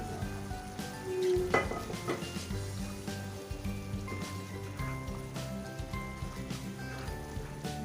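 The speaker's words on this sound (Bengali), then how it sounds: "এখন আমরা এর মধ্যে দিয়ে দিব হচ্ছে ভেজে রাখা চিকেনগুলা।" Fried chicken pieces tumble into a pan of butter chicken sauce, giving a brief louder splash and clatter near the start, then a steady bubbling, clinking kitchen texture continues close by with no talk.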